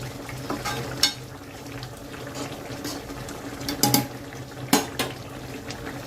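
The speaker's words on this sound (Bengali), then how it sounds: "একটু নাড়াচাড়া করে নিচ্ছি।" Lauki kofta curry being stirred in a pan with coriander leaves, a soft bubbling simmer under scattered scrapes and clinks of the spoon against the pan.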